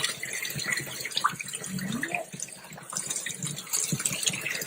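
Cold water runs steadily into a tub for washing cloth diapers, a continuous splashing hiss with small gurgles, close by and fairly loud.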